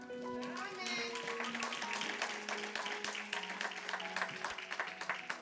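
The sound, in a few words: congregation applauding in church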